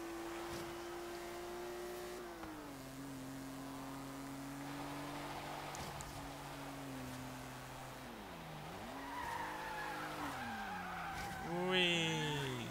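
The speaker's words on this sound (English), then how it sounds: "Likes to drift as well." In Forza Horizon 3, an old car's engine drones steadily while tires squeal in long sliding drifts, the pitch bending and rising toward the end, with a voice faintly underneath.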